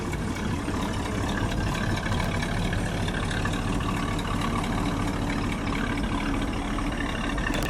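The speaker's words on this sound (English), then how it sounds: "Listen to that rumble." A 1958 Chevrolet Impala V8 idles with a continuous, loud, low rumble that holds steady throughout with no talking.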